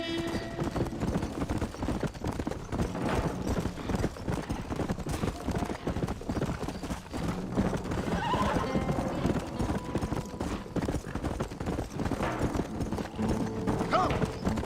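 A horse in the Red Dead Redemption video game gallops with steady, dense hoofbeats and whinnies now and then, loud under a continuous game soundscape with voices speaking.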